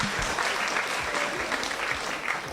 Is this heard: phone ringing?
no